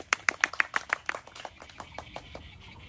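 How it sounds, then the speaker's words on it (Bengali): A small group claps for a woman in a village banana-eating contest, a quick burst of sharp hand claps that starts fairly distinct and then thins out and fades over a few seconds. "প্রতিযোগীর জন্য জোরে একটা করতালি চাই"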